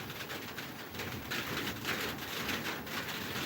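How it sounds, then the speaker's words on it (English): Rain falls some way off as a soft, steady hiss. Pigeons coo nearby over it. "the rains are here. I can hear them from a distance."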